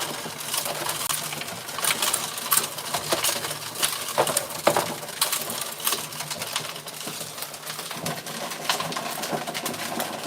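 A gold trommel tumbles and grinds material, producing a continuous rattling clatter of rocks lifting, falling and dragging inside the turning drum, with irregular sharp knocks throughout at close range.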